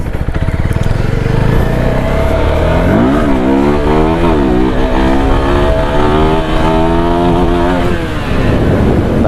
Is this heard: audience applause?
no